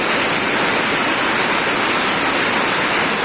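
Prolonged heavy rainfall over flooded ground with standing water, producing a thick, even roar of rushing hiss that stays loud and unchanging, no speech.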